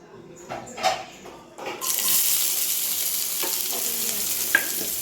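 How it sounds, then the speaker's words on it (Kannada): Sliced onions hit hot oil in a pan for a healthy greens-stem stir-fry, starting with a few clanks and stirs, then a loud, steady broadband sizzle that holds to the end with occasional utensil scrapes. "ಈರುಳ್ಳಿ ಹಾಕಿಬಿಟ್ಟು ಚೆನ್ನಾಗಿ ಸ್ವಲ್ಪ ಹೊತ್ತು ಫ್ರೈ ಮಾಡ್ತಾ ಹೋಗಬೇಕು"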